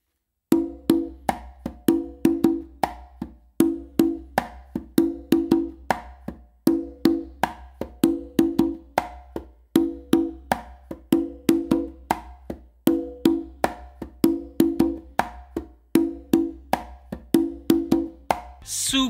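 Congas play a simple, repetitive funk pattern with crisp slaps and booming open tones in a steady looping groove, close and clear throughout, with no voices.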